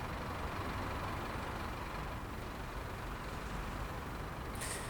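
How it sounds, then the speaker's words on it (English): Diesel buses idle at a late-night station by a pier in Train Sim World 2 on the Isle of Wight, a steady low engine rumble filling the scene with a brief hiss near the end. "More buses with the engine running."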